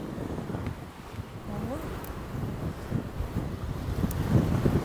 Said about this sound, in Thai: โอ้ยลมแรงแรงไหมพี่น้องเอ้ย